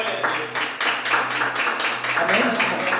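A congregation claps in rhythmic, steady unison during a Thursday evening church service, loud and close, with a low hum and voices underneath.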